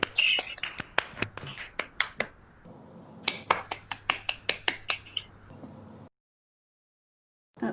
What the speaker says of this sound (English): Everyone can give you a round of applause.